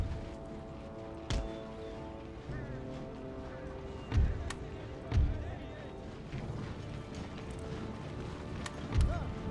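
Cavalry charge in the video game Empire Total War, with galloping hooves and clip-clop thuds mixed with distant battle thumps amid a moderate battlefield din.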